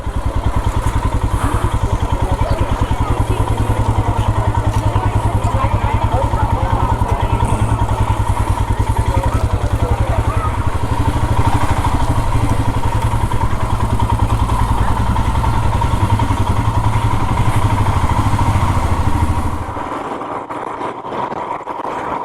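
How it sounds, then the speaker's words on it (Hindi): A motorcycle engine runs loud and close with a steady, clattering throb as the bike is turned around at Lakshman Jhula in Rishikesh. The engine drops sharply in level near the end. "यहाँ से अपनी बाइक घुमा ली जाएगी क्योंकि ये लास्ट पॉइंट है।"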